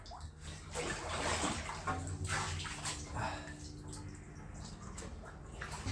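Water gushes and splashes steadily straight down onto the ground with no pipes to guide it, a loud continuous rush with faint background noise.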